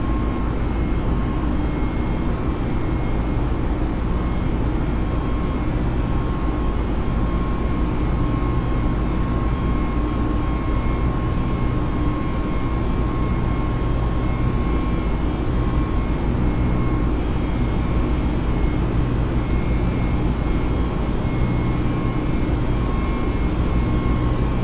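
Airbus A320 (FBW A32NX) in Microsoft Flight Simulator, departing and climbing: a loud, steady engine roar continues unbroken throughout, with no talking.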